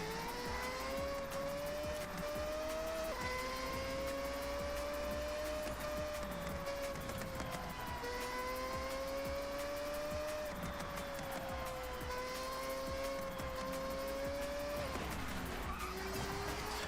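Engines roar in a video game car race, with a sustained revving whine that rises and drops through gear shifts, mixed with tire squeal and skidding noise throughout.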